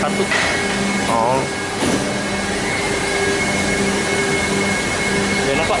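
A number 21 factory machine runs steadily with a constant broadband roar and faint steady tones, while people talk intermittently over it.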